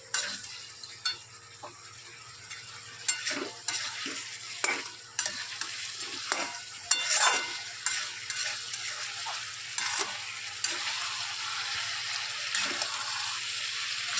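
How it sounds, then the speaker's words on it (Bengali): Mutton curry with garam masala being stirred and sautéed in a hot pan, a spoon scraping in an irregular rhythm over a steady close sizzle of frying, with no talking. "এবার একটু নাড়াচাড়া দিয়ে ভালো করে মিশিয়ে দিই আর একটু কষিয়ে নিই"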